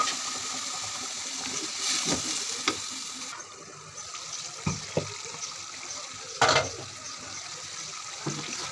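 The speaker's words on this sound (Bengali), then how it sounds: "আমি এখন পানি দিয়ে দেবো" Water is poured into a pot of country chicken and rice, with a few splashing and sizzling bursts over a low steady background, close by and moderately loud.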